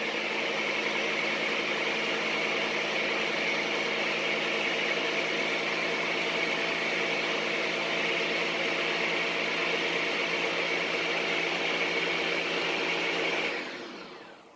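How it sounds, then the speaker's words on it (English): A blender mixing homemade shea butter coconut lotion whirs steadily at high speed for a long stretch, loud and close, then cuts off abruptly at the end. "go ahead and put your blender back on again"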